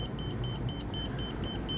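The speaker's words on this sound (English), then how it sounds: "beeping at me, let me know, hey, don't take off yet, make sure all your jacks are up." Warning beep in the cab of a 2024 Renegade XL X45BBC RV, alerting that the leveling jacks are still down: a steady series of about eight short, evenly spaced beeps over a constant low idle rumble.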